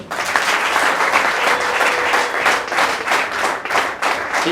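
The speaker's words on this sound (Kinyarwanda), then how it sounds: "Amashyi menshi." A church congregation breaks into hearty applause during a worship service, a loud, dense wash of many hands clapping, steady for several seconds with slight swells, no speech over it.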